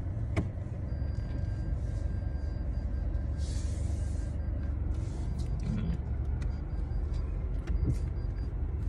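Busy street traffic with many cars passing on a Saturday, a steady dense rumble of engines and tyres with occasional brake hiss and small clanks, fairly close and continuous throughout.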